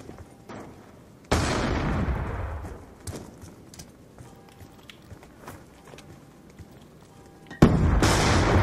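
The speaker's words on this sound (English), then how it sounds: "I bet a nade will land right there" A grenade explodes in an online shooter video game, a sudden loud blast that trails off over about two seconds, followed later by another sharp, loud burst of explosive noise.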